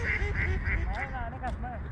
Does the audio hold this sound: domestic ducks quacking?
yes